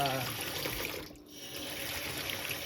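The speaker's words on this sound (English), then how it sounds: "I'm using cold water." Cold water runs steadily from a kitchen tap while mushrooms are rinsed, a continuous close hiss and splash with a brief dip midway.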